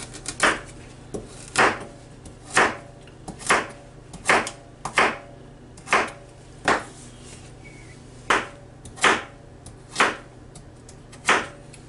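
A knife chops through vegetables on a cutting board in a steady rhythm of about a dozen crisp, close knocks, diced for a beef, vegetable and pasta soup.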